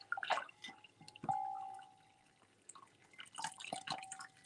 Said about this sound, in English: And then I'm going to pour on my boiling water.